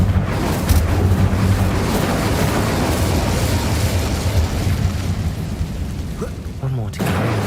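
The Incendio fire spell is cast in Hogwarts Legacy, a loud roaring, rumbling burst of flame that sustains as a dense crackling wash, thinning out near the end before a brief sharp hit.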